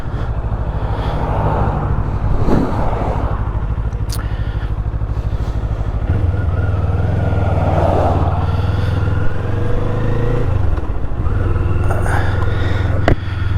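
A Kawasaki Eliminator motorcycle engine drones steadily at close range while riding, its pitch shifting up and down with throttle and gear changes under rushing wind noise.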